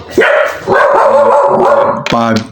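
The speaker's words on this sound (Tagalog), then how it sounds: "maingay yung aso namin" Loud, close dog barking in a few drawn-out, yowling bursts, one after another with short gaps.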